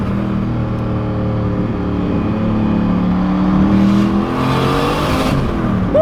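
Turbocharged LS1 V8 in a Holden Commodore SS driving along, a steady low engine drone with strong harmonic bands and a slight swell in revs near the end, loud and continuous with no talk.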